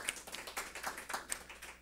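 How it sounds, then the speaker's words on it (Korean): A church congregation gathered for Sunday worship gives a short round of welcoming applause, with scattered, fairly faint claps sounding unevenly across the moment. "우리 감사의 박수, 환영의 박수"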